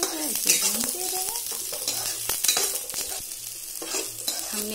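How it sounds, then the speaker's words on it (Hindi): Chopped onions sizzle and fry in a pan with steady crackling, while a utensil scrapes and stirs them in repeated close strokes. "इसमें कटी हुई प्याज, इसे अच्छे से भून लें, जब तक ये ब्राउन ना हो जाए इसे भूनते रहें।"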